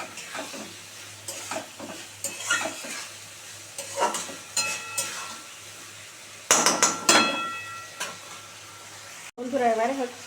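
Banana flower curry in a pan as water and fried fritters go in, with repeated stirring scrapes and clinks over a bubbling sizzle, getting louder near the end, with a voice talking briefly.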